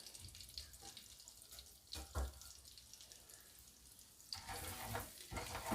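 Cumin seeds sizzling in melted butter in a pan, a soft steady crackle with a few louder spits, fairly faint.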